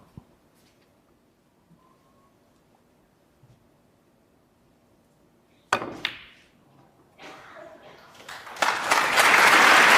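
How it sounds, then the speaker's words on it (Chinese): Audience applause in a snooker arena, rising after a quiet stretch into loud sustained clapping near the end, with a sharp knock partway through and commentary voices. "从这掌声就可以听出，现场几乎全部是火箭的粉丝。"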